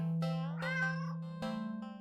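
A standard black cat found in a cardboard box at the end of an alley gives a couple of drawn-out, close meows, with a tonal, harmonic quality and no talking over them.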